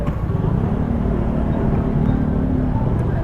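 Rush-hour road traffic in congested conditions, a dense continuous rumble of car and motorcycle engines nearby with no talk.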